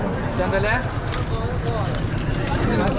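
Bullock cart hooves clip-clop steadily at a busy cattle market in Vaniyambadi, beneath continuous crowd chatter and nearby voices.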